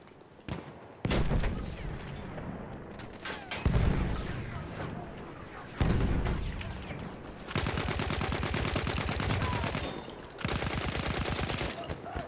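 Rapid bursts of gunfire from a Battlefield 1 Conquest match on the Zeebrugge map, sustained fusillades with short pauses between volleys, loud and dense throughout.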